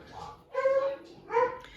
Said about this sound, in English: I apologize for my dogs barking in the background.